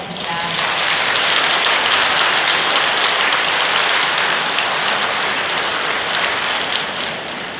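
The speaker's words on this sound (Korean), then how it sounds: "오늘 강의를 맡아주실 김인한 알베르토 신부님 큰 박수로 맞이하겠습니다." A lecture audience gives sustained, dense applause to welcome a priest lecturer, loud and continuous throughout before tapering slightly at the end.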